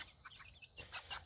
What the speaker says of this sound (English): Look at those chickens. Look at that rooster.